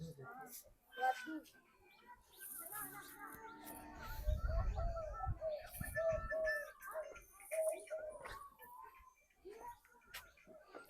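Pigeons coo in soft, repeated low calls while people talk nearby, with scattered clatter around them.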